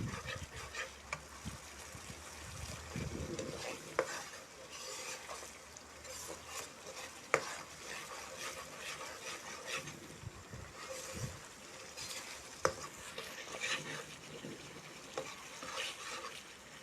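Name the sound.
sautéing sambal tumis in a pan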